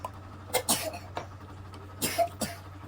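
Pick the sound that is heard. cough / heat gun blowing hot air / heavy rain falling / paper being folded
cough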